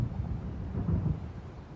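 Low, rolling thunder rumbles from a storm in the video game Alan Wake, a deep continuous swell with faint wind, moderately loud and without voices.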